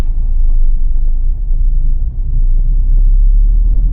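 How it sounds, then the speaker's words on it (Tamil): A car rolls over a tall speed breaker in city traffic while downshifting from third to second gear, giving a deep, continuous engine and road rumble with a slight dip midway. "இப்போ நான் சடனாக ஸ்பீட் பிரேக்கரில் தேர்ட்லேருந்து செகண்ட் வந்துட்டேன்."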